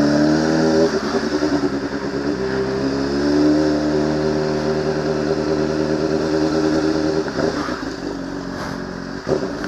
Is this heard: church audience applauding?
no